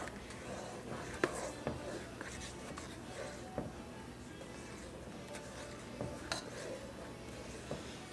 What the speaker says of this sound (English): So now we're going to stir this up